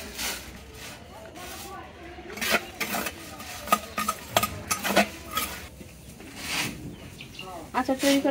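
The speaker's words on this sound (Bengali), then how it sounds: "মশলাগুলো মাটির খোলাতে ভালো করে ভেজে নিব।" Cardamom, cumin, fenugreek, fennel, whole coriander and dried chillies are dry-roasted in a clay pan, with intermittent scraping and clinking stirring strokes and faint rustle; birds chirp in the background.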